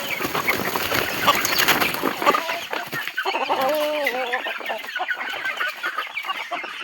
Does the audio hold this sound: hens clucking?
yes